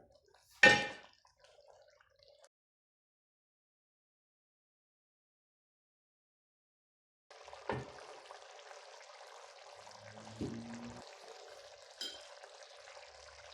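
Beef karahi with tomatoes cooks in a pan: one sharp clatter, a long silent gap, then a steady low sizzle with faint stirring knocks.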